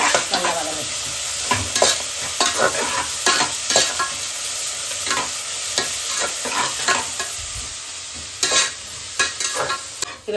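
Onions sautéing in oil for ghee rice, a steady close sizzle broken by repeated scraping strokes of a stirring spoon against the pan, with no talk.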